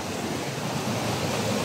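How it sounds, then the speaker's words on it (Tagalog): Water swirls and rushes through a forest stream, a steady, close, full roar of churning flow without pauses or speech. "Umiikot yung tubig dito."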